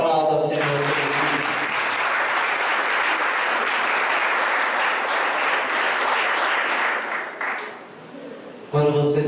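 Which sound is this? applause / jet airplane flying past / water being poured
applause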